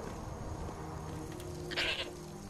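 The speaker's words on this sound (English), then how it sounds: "I found the goat." A goat in the video game Skyrim gives a single short bleat that rises briefly above a steady bed of game ambience, moderately loud and close.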